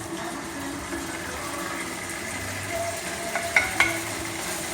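Cooked ground beef sizzles softly in a pan while the fat is drained off, a steady low frying hiss ending with a few sharp clinks of metal near the end.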